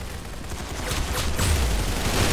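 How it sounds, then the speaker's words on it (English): Rapid gunfire from the Roblox game Arsenal, a dense burst of shots rolling over a loud, continuous game mix with no speech. "The bullet exits the chamber with a sudden shout"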